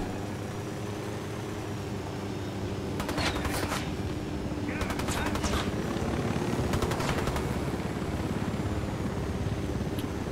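Helicopter in the video game Tom Clancy's Ghost Recon: Wildlands, a steady loud rotor and engine drone filling the whole stretch, with bursts of gunfire cracking through it in the middle.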